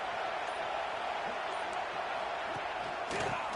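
Crowd noise in a college football video game, a constant broad roar from a fired-up stadium crowd that stays loud and even throughout, swelling slightly near the end.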